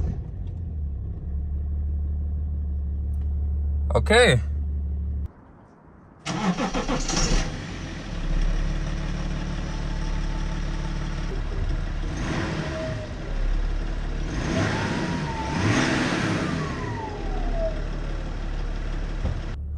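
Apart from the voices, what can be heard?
diesel car cold start and idling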